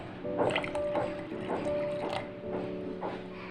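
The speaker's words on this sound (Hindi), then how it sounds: "मैं इसमें पानी डाल रहा हूँ।" Water is poured into a pot while making kari handi, giving soft, wet splashing and dripping sounds in irregular bursts, moderately close against a steady background hum.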